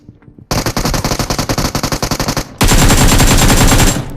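Video game gunfire: a rapid burst of automatic shots in a fast even rhythm, loud and close, then a dense sustained volley of fire.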